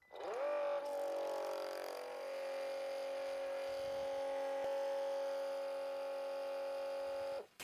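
A DeWalt cordless transfer pump on an 8 amp hour power pack runs with no load, spinning up quickly to a steady whining hum that holds evenly for several seconds before cutting off abruptly.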